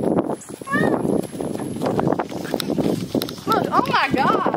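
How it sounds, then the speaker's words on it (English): Goats run across a pasture, quick hoof steps thudding on the ground under excited close talk and laughter, with a few high bleat-like calls near the end. "Let's do some goat running"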